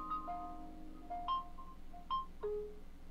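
A Nooie 360 Cam2 IPC100 security camera plays a short electronic chime as it connects: a few clear, spaced tonal notes over a steady low background hum, with no speech.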